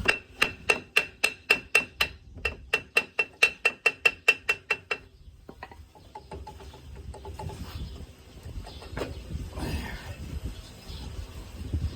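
A brand-new hammer strikes a brake drum about sixteen times in a quick, steady rhythm with ringing metal clanks, followed by quieter clattering and rummaging.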